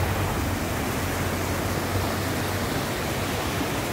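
Water pouring over the spillway of the Coronel reservoir in Antonina do Norte, Brazil, a dense, steady roar of broadband rushing noise, loud and unbroken throughout.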